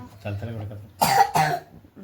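A child coughs twice in quick succession, close and fairly loud, after a stretch of nearby speech in a home setting.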